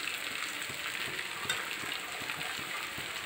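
Sago pearls stirred into potato frying in a pan for sabudana khichdi, a steady moderate hiss with regular soft scraping strokes of a spatula.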